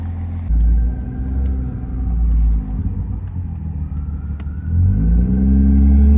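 A BMW G30 sedan driving on a road in Comfort Plus mode, with a steady low engine rumble and tire noise that swells and eases as it accelerates.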